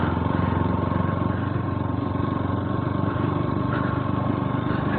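Yamaha FZS motorcycle riding along an Indian road, its engine humming in a steady, loud mid-pitched drone with constant road and wind noise throughout and no pauses.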